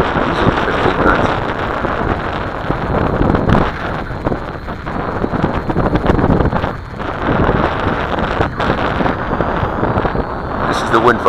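Strong wind of about 15 knots buffets the microphone in a constant loud roar with gusty swells, drowning out other sound for the whole stretch.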